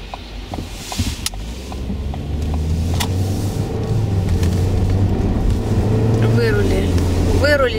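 A car pulls out and drives toward a parking lot in Israel. The engine is a steady hum that grows slightly louder as the car gets going, with road noise and a few faint clicks. Someone talks over it.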